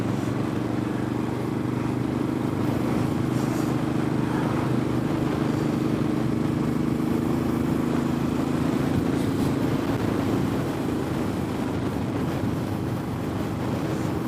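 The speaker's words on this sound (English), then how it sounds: "look, there's some motorbikes." Steady engine drone from motorbikes riding along, a constant low rumble that holds throughout with no voices.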